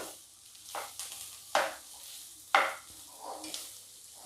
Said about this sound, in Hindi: तो टोटल हमने यहाँ 5 मिनट मसाले को भून लिया है।